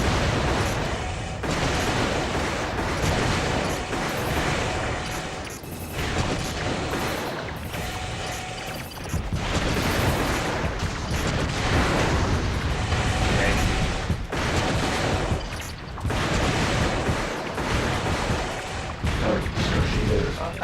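Continuous, dense weapon fire and booming blasts from the mech combat game Armored Core 3: Silent Line, with sustained loud bursts and brief dips throughout.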